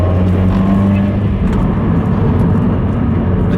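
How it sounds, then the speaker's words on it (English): A tuned MY15 Subaru WRX gives off a dense, continuous engine and turbo rumble, loud and close, with some hissy whoosh above the low drone throughout the short stretch. "The turbo noises, the drama is back."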